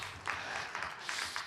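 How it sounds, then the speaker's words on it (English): Faint, distant round of applause for children at a talk, light scattered clapping in a hall lasting only a moment. "can we give them a round of applause?"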